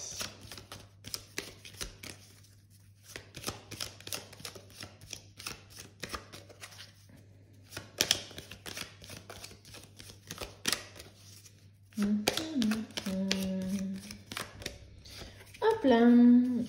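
Tarot cards are shuffled, laid down and drawn in a series of soft, close riffles, flicks and taps, with someone speaking French throughout.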